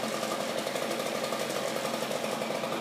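A backpack leaf blower runs at idle while clearing leaves off new turf, giving a steady, loud, continuous engine drone.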